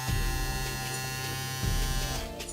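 BaBylissPRO single foil electric shaver running close up, a steady dense motor buzz with a rich harmonic hum that holds for about two and a half seconds, briefly surging in level partway through.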